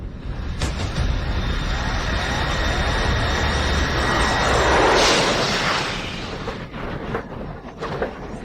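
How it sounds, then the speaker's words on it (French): Airliner engine roar during turbulence, a loud sustained droning rumble with a swelling whoosh around the middle and heavy low-end thuds, no speech. "L'avion ne fait que traverser des turbulences."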